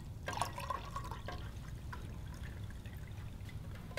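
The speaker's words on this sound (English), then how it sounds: "If I pour this liquid," Liquid poured into a container during a demonstration, heard faintly as a soft trickling with a few drips early on over steady low background hum.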